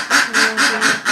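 Duck quacking near a yard where harvested rice is spread out to dry, with goats close by; five loud, evenly spaced quacks follow one another in a steady rhythm, with no voices.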